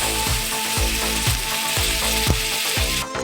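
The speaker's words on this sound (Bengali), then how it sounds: "এই যে আমার মাছ একটু সময় ভাজা হয়েছে লাল লাল করে" Fish frying in mustard oil hisses with a steady broadband sizzle, overlaid by a regular mechanical ticking pulse about twice per second, close and constant across the short stretch.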